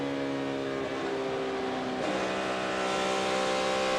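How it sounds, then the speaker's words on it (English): A NASCAR stock car at the 2012 Quicken Loans 400 holds a steady engine tone on throttle, a sustained buzzing drone that shifts pitch slightly midway, heard at moderate distance without talk. "Just listen to that throttle and how he's working it."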